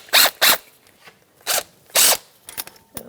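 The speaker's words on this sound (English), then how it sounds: "with a long extension, I'm going to get a 13mm socket on these 2 retaining bolts right here and take them out" A ratchet with a 13mm socket on a long extension works loose the retaining bolts on a 2008-2013 Nissan Rogue during a front CV axle seal job, giving several sharp, close bursts of clicking separated by brief pauses.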